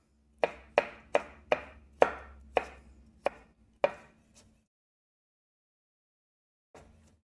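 A knife chops through thin planks of fish on a cutting board for fish tacos, with eight sharp, evenly spaced strikes close up and one faint last tap after a pause.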